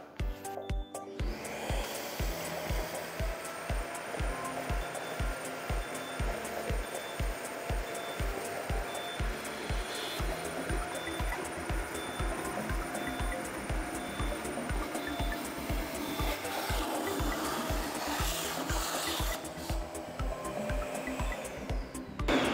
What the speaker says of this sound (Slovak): 10 litrov vody odsalo za pár sekúnd, s prevýšením vysávača zhruba 1 meter